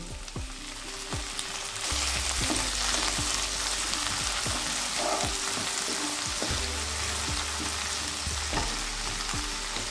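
Chopped tomato is added to onions frying in oil for rice, and it sizzles steadily, with repeated clinks and scrapes from stirring over a constant low hum.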